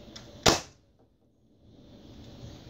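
A single sharp, snappy pop of a modified Nerf Hammershot blaster firing close by, followed by quiet room hiss.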